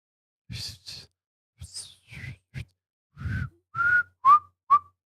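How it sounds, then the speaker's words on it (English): A person makes a string of short, breathy whistles and puffs, ending in a few clearer, louder tonal whistle chirps, spaced irregularly with no talking. "You whistle."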